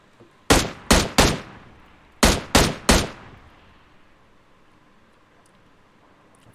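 Gunfire in the battle royale game BGMI: two quick bursts of three sharp, loud shots each, separated by a short pause, then fading ambience with no talk.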